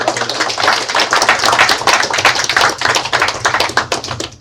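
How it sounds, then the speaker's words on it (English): A round of applause at a city council meeting in Elkhart, Iowa: many hands clapping steadily and fairly close for several seconds, with no talk over it. "I think a round of applause for Mr. Nichols"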